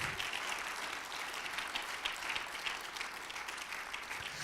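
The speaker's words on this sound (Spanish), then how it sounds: "Dele un aplauso al Señor." A church congregation claps together in steady, sustained applause, a dense even patter of many hands filling the room for several seconds, with no voices standing out.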